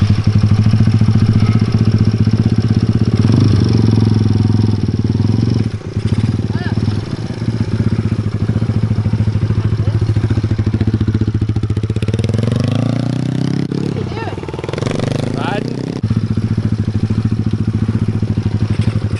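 A Kawasaki KLX110L big bore pit bike engine runs loud and close through a muddy play day, a continuous rattling drone that rises as the throttle is opened, with people shouting over it.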